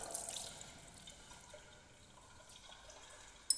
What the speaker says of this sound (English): Let me wash it with water.